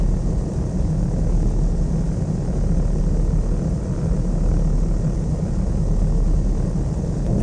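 Light aircraft engine in the Flight Sim World game, a constant loud droning rumble with steady broadband noise and no change in pitch or level throughout.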